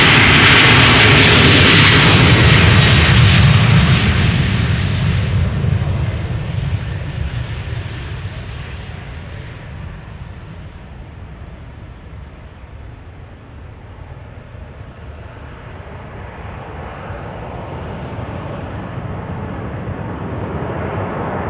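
A British hopper Embraer 190 jet takes off from Schiphol's Polderbaan runway, opening with a loud, close, broadband engine roar that slowly fades and thins as the aircraft climbs away, leaving a steady distant rumble with no talk over it.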